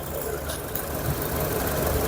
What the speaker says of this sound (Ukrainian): двигун працює чудово, але чутно його